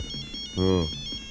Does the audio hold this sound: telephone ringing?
yes